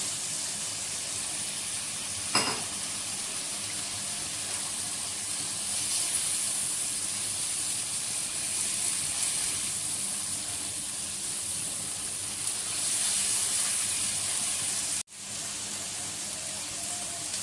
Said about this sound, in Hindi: अब मैं इसके साथ आलू डालूंगी, आलू को भी थोड़ा सा भूनूंगी